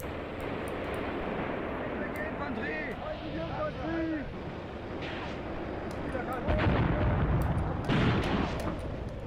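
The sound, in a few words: artillery and gunfire in the video game Graviteam Tactics: Mius Front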